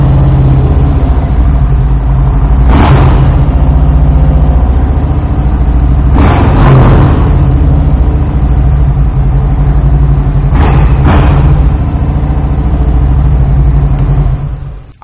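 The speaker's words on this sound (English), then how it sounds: "I really like the way the Tab Performance exhaust sounds on this motorcycle." A 2018 Harley-Davidson Ultra Limited Low motorcycle with a Tab Performance exhaust idles with a loud, close, deep rumble, revved in three distinct throttle blips over the steady idle.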